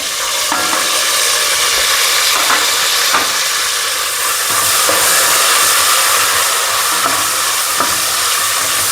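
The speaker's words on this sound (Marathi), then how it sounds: "आता मी कापलेली तोंडली टाकत आहे" Chopped ivy gourd tossed into cashews frying in hot oil gives a loud, steady sizzle, with a few soft stirring scrapes and clicks breaking through the continuous hiss.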